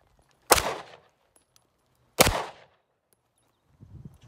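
Two sharp gunshots from a Glock 19 9mm pistol ring out outdoors, spaced about two seconds apart, each with a short echoing tail, followed by faint rustling.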